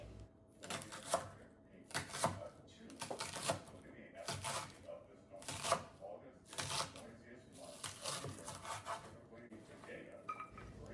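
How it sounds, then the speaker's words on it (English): A knife thinly slices the white part of a green onion, giving a quiet, close series of quick rhythmic taps and cuts on a board. "you're gonna cut the white part of the green onion and slice it thinly"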